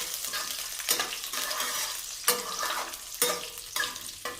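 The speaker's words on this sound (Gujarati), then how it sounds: "કાજુ છે ઘીમાં સરસ રીતે સતળાઈ જશે" Cashews fry in ghee with curry leaves for a village-style vegetable pulao, giving a steady close sizzle broken by several sharp scraping stirs of a spoon against the pan.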